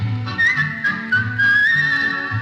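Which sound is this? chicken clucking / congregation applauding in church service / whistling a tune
whistling a tune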